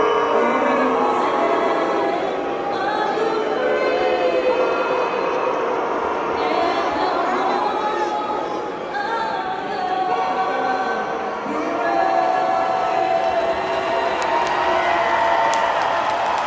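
A large crowd at a Vancouver Canucks hockey game boos the US national anthem. The dense, loud roar of voices continues without a break for the whole stretch.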